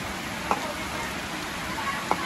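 Rain falls as a steady, soft hiss of droplets hitting surfaces, fairly even and moderate in level, with a couple of brief faint knocks.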